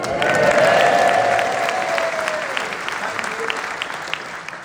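Audience applause at a political conference speech in Wales: a loud, dense burst of clapping with some crowd noise that tapers off over a few seconds.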